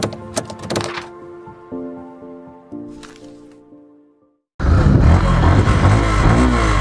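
A Yamaha FZS BS6 motorcycle's exhaust: a steady, tonal engine drone with a few stepped changes in pitch, then a sudden loud, rough, broadband roar for the last couple of seconds.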